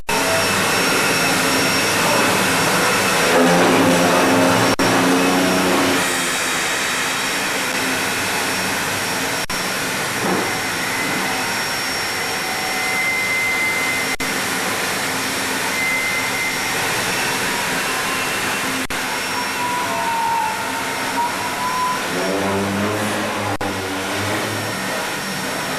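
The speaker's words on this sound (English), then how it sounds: "As the steam locomotive backs into the engine house, the sound of its power is deafening." A steam locomotive backing into an engine house gives off a loud, continuous roar and hiss that fills the space, with a few brief tonal swells and no voices.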